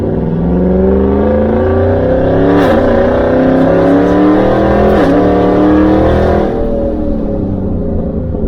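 Naturally aspirated V8 engine in a modified Land Rover Defender accelerating, a loud, close, continuous engine roar that rises in pitch through the gears, with brief dips at the shifts.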